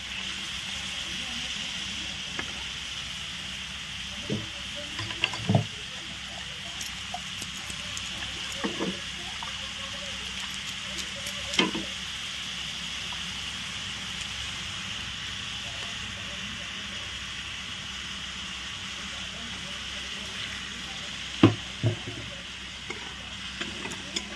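Vegetables and tomatoes fry in a pan in a village kitchen with a steady, close sizzle throughout. Occasional scrapes and taps of stirring break through the hiss, and a voice speaks intermittently.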